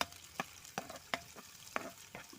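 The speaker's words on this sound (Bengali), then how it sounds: "ফ্রাই প্যানে তেল দিই পেঁয়াজ কুচি ভালো মতো ভাজি লই" Chopped onions fry in oil in a frying pan while being stirred, with a soft low sizzle broken by regular sharp scraping clicks of the spoon roughly every half second, close up.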